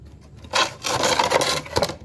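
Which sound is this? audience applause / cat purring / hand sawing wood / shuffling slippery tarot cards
hand sawing wood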